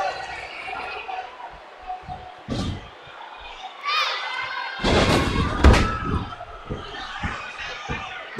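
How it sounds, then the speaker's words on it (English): An arena crowd at a wrestling match roars and cheers in swelling waves, peaking near the middle, while heavy thuds and slams from the ring punch through the din. "And listen to this crowd!"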